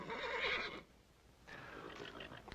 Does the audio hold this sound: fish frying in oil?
no